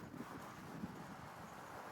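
Steady wind blows across an open outdoor field in a Tamil village, a constant rushing hiss that buffets the microphone with faint gusts and no voices.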